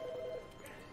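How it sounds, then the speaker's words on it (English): A telephone ringing in the video game The Stanley Parable, a short faint electronic trill heard once and quickly cut off, with no talk. "Oh, wait, the phone's ringing."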